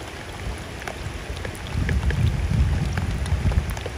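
Heavy rain falls outdoors as a steady broadband hiss, with low rumbling gusts and wind buffeting that grow stronger halfway through.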